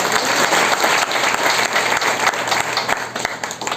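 Vigorous applause from a seated audience at a business training event, dense and continuous, loud and close throughout with a faint underlying hum.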